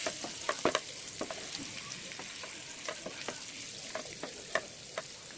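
Eggs fry gently in oil with a quiet, steady sizzle, with scattered crisp pops and crackles spread through it at close range and no talking.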